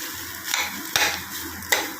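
Food being stirred in a pan after coriander leaves are added, sizzling quietly throughout with three sharp scraping strokes spaced about a second apart.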